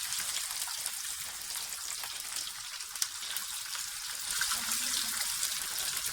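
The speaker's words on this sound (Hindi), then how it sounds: "अब हम इन्हें फ्राई पैन में, हमारा ऑयल गरम है, इनको फ्राई करते हैं।" Potato chips frying in very hot oil in a pan, giving a steady, close crackling sizzle with scattered pops throughout.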